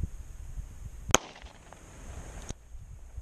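A single sharp crack from a plastic pistol fired outdoors at a stick, loud and close, with a brief ringing tail against quiet background.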